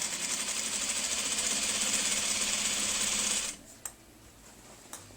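A sewing machine joins quilt blocks in a steady, fast whirring run that stops abruptly after about three and a half seconds, followed by a few faint handling clicks.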